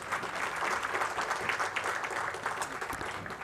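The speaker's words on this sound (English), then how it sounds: "Can we have a louder applause?" Audience applause at a corporate foundation day ceremony, a steady moderate clapping that fills the hall evenly from start to finish with no voices over it.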